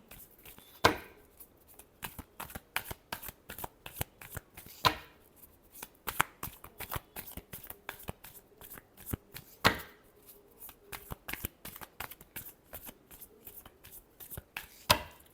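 Tarot cards shuffled by hand in a long run of quick crisp riffles and slaps, irregular bursts with brief pauses, close and fairly soft.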